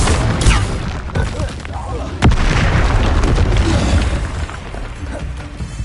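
A Confringo spell explodes in the video game Hogwarts Legacy, a sharp blast with a bright crack around the middle followed by rumbling burst and debris noise, set among other loud spell effects and a speaking voice.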